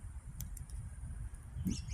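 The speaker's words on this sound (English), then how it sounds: "I heard the bird." A few faint, high bird chirps break a quiet outdoor background, mostly clustered near the end, with a low steady rumble underneath.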